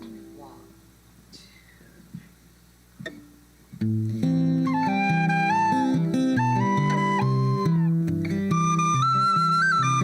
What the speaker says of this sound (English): there's something about that whistle that sounds a lot like